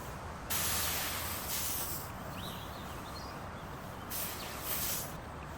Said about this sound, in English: we can begin spraying the finishes with a basic HVLP sprayer